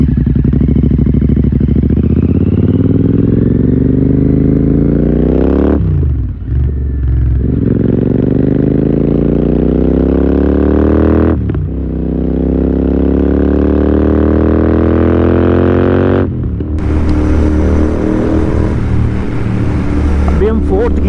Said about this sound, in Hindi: साउंड बताना आप कैसा आ रहा है जीटी का, बिल्कुल क्रिस्प साउंड निकल रहा होगा रेड रूस्टर्स का।